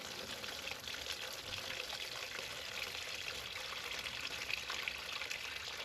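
Coolant pouring from the radiator of an Indian Challenger or Chieftain motorcycle, a steady close hiss of liquid running continuously without a break and with no talking.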